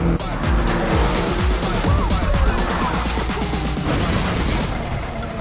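A race car in the Need for Speed Mobile video game roars and accelerates hard, engine loud and close with tire squeals and skidding layered over a steady dense roar throughout.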